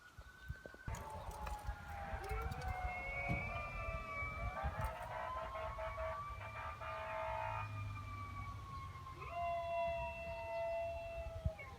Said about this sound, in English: I don't know if you can hear the engines going by, but they're heading up that way now too.